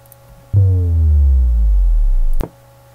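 A synthesized sine-wave bass drop built in Audacity: one loud, booming low tone with a pitch that sweeps downward and sustains for about two seconds before cutting off abruptly, alone with no talk.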